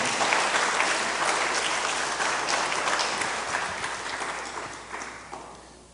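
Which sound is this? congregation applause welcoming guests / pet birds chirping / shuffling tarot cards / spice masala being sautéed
congregation applause welcoming guests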